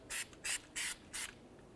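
Copper anti-seize is sprayed from an aerosol can onto the brake rotor mating surface of a 2004-2015 Nissan Titan, four short close hissing bursts in an even rhythm with brief pauses between.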